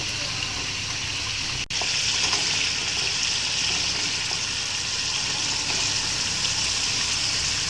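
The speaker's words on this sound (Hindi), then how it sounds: "अब ये मेरे पास जो उबले हुए चने थे ये इसमें डाल देने हैं" A constant loud sizzle of boiled chickpeas frying in a pan, with a brief sharp clink near the start, then steady crackling throughout.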